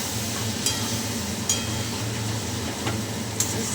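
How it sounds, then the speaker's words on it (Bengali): Masala paste frying in a pan gives a continuous close sizzle with a low hum beneath, punctuated by a few light ticks of a spatula stirring, and no voices. "এই মশলাটা আরও একটু কষুক ভালো করে"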